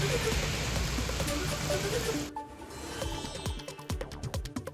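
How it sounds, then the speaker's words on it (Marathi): Heavy rain roars in a dense wash over Bandra, Mumbai, then gives way to scattered drops spattering loudly on a nearby surface. "मुंबईतल्या वांद्रे, कलानगर परिसरात जोरदार पाऊस"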